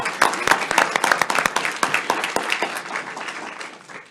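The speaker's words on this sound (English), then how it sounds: "I'm clapping like I'm taking credit for that" A room of people at a school board meeting clapping, with a burst of sharp, quick claps that thins out and fades over a few seconds, a voice faintly under it.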